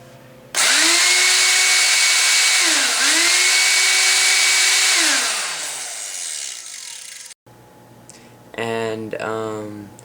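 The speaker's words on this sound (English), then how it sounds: "the motor I have on there is extremely loud" A very loud electric motor on a forge blower whines up to a steady high hum, dips and recovers, then winds down, followed by close speech.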